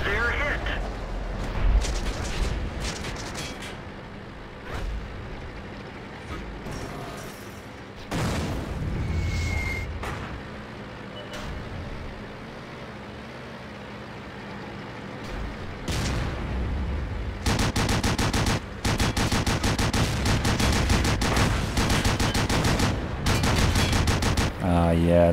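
Tanks shooting in World of Tanks, including a Pz. 1 Ausf. C: repeated cracks of gunfire and booming shots recur across the battle and grow into dense, loud volleys near the end.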